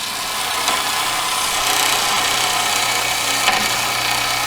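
A 1932 Craftsman bandsaw runs steadily up close, a continuous motor hum and blade whir with a couple of faint ticks, no voices.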